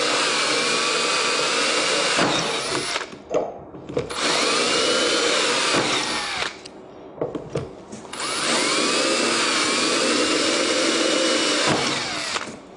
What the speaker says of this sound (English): we're just going to go around and drill out all